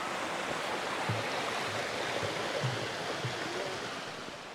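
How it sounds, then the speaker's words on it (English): A woodland stream in Hickory Run State Park rushes down into a creek, a steady broadband wash of flowing water, close and continuous, with a few faint low knocks beneath. "And the stream flows right down into the creek there."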